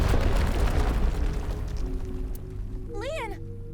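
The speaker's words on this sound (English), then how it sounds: "Holy shit, he exploded?" A loud, deep explosion in the video game AI: The Somnium Files - nirvanA Initiative opens with a heavy boom that rumbles and fades over a few seconds, followed by a short, high, wavering cry.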